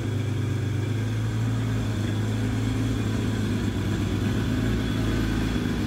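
A Ferrari Testarossa replica kit car engine runs loud and close, holding a steady high rumble with slight surges at a fast idle and no voices over it.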